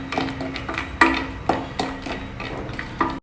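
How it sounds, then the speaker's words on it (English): About two tablespoons of groundnuts fried in a drop of oil in a pan and stirred, giving close, steady clinks and rattles every half second or so, with no voices. "Just take a drop of oil in a pan and about 2 tablespoons of ground nuts. Just fry them."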